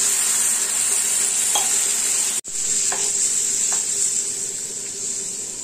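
Papaya curry frying with spices in a pan, a loud steady sizzle and hiss with a few scraping stirs of a spoon and one brief break in the sound.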